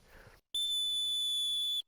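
A sharp, steady dog-training whistle sounds once, loud and close, for about a second and a quarter, its piercing high tone sustained evenly after a brief burst of faint background noise.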